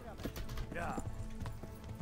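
Horse hooves clip-clop in the medieval game Kingdom Come: Deliverance, quick close steps under someone talking, with a short whinny-like tone midway.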